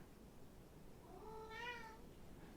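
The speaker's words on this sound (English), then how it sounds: "The cat has returned." A single soft cat meow rises and falls near the middle, faint and slightly distant against quiet room noise.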